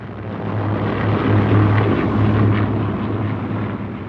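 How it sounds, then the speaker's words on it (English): Junkers Ju-52 aircraft engine, a steady loud droning roar that swells slightly in the middle and holds throughout, with no talking. "The main training aircraft was the Luftwaffe's workhorse, the Junkers Ju-52."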